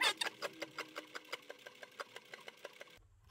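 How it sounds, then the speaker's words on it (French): A sewing machine topstitches leather on a handbag, stitching at an even, moderate pace with a quick regular run of mechanical ticks that stops abruptly near the end, quiet and close. "Quand je couds, j'y vais tranquillement et j'accompagne la matière."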